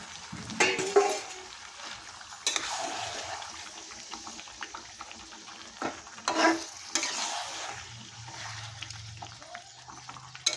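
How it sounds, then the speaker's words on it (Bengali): Chicken pieces and stomach and liver sautéed in a pan make a quiet, uneven sizzle, broken up by repeated scraping stirs and clatter in short bursts. "খুব ভালো করে কষিয়ে নেব"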